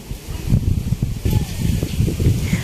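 Strong wind gusts roar and buffet continuously under darkening clouds before rain, with low rumbling bursts and rustling throughout; a person talks over it.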